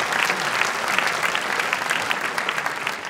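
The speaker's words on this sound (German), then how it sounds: "Applaus." A studio audience at a German talk show breaks into loud, sustained applause, dense overlapping claps heard up close with no talking over them.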